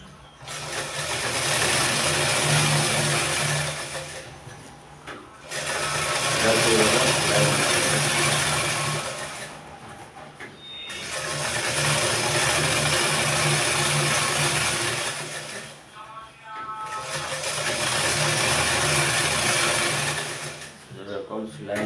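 A sewing machine stitching waist elastic on a child's plazo pant, running in several long, loud bursts of a few seconds each with short pauses between them, close to the listener.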